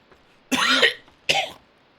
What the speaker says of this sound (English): Still got a tiny cough.